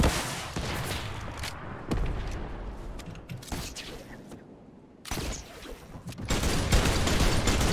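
Deadpool's guns firing in the Fortnite video game, heard as dense, loud bursts of rapid gunfire separated by brief lulls, with booming impacts mixed in.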